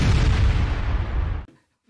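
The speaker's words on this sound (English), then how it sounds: "The explosion noise at the end is so deeply embarrassing." A loud explosion sound effect added at the end of a short dating-advice clip, a heavy booming blast that rumbles and decays for about a second and a half before cutting to near silence.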